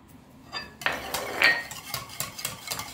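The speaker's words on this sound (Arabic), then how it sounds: "نخلط مليح" A utensil stirs and scrapes batter for an Italian apple cake in a bowl, a run of quick, close clinks and scrapes against the bowl, fairly quiet and without talk.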